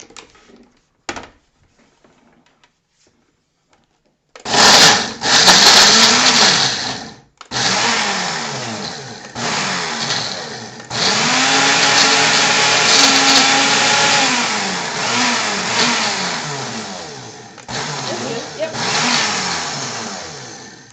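A food processor pulsing a sticky mixture of dates and granola, with several loud whirring bursts of motor noise and short pauses between them. There is a quiet stretch before the first burst.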